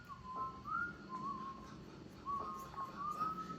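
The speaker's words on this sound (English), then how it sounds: "A slow, eerie tune carried through the trees surrounding his camp" A slow, wavering whistled tune, faint and distant, drifting over a low background rumble, with pauses between phrases.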